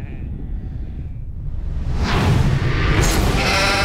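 Sheep bleating in a loud, noisy jumble that grows stronger partway through, with a rushing, windy wash and a rumble underneath.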